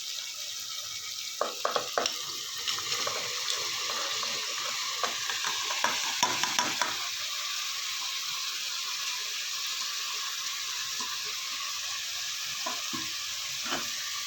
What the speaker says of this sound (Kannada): ಇವಾಗ ಇದಕ್ಕೆ ನಾನು ಹಾಗಲಕಾಯಿ ಹಾಕ್ತಾಯಿದ್ದೀನಿ